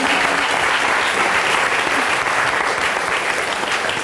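A French television studio audience claps in loud, sustained, even applause that fills the entire stretch without a break.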